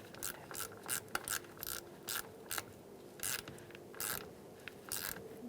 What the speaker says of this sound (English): use an 8mm socket